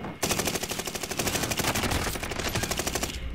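Rapid, evenly spaced gunshots ring out in a close, loud string from a Kar-98 rifle in a first-person shooter video game, filling the clip alone without talk.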